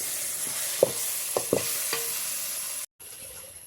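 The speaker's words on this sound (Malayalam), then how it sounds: "കുറച്ച് മഞ്ഞൾപ്പൊടി ഇട്ട് ഇനി നല്ലോണം ഇളക്കി ഒഴിപ്പിച്ചു കൊടുക്കാം" Spices and turmeric powder fry in oil in a pan for dum biryani, giving a close, steady sizzle. A spoon stirs through it with several sharp scraping clicks, then there is a brief cut before the sizzle resumes.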